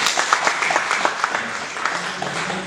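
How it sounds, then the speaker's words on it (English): Audience applause fills the room, a steady patter of many hands clapping at moderate volume for nearly three seconds, with no talk over it. "Let's have a round of applause for Shubham"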